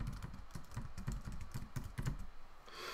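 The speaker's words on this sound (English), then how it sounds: "Oops, nice typing." Rapid keystrokes on a computer keyboard during work in Maya animation software, a close, steady clatter of clicks that stops abruptly near the end, followed by a soft hiss.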